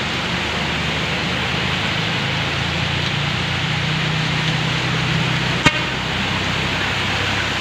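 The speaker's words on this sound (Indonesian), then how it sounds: "Bisa teman-teman lihat sendiri bagaimana kendaraan sangat sulit melewati banjir di daerah ini" Vehicles push through flood water on a road in Takengon, Central Aceh, a steady broad wash of engine and water noise with a single short horn toot near the end.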